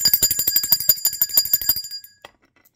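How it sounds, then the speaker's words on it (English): A small bell rings in a quick series of bright metallic strikes for about two seconds, then fades out into silence, close and clear. "Let's ring the bell for that."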